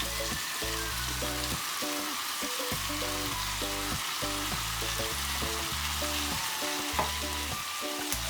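Spring onions stir-fried in a pan for a beef stir-fry give a steady, even sizzle that runs throughout, partly masked by rhythmic background music with a repeating bass line.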